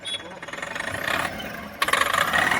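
A Tata Mega truck engine with a misfire and low-pickup fault revs steadily, its throbbing rattle rising in loudness toward the end and up close.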